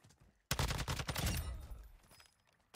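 Gunfire in the video game Warzone 2 Resurgence: a sudden loud burst of rapid automatic shots lasting about a second, then a fading rumbling tail, close-up and with no talk over it.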